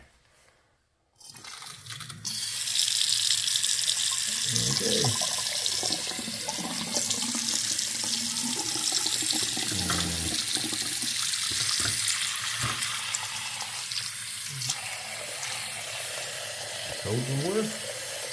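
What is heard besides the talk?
water running from bathroom sink faucet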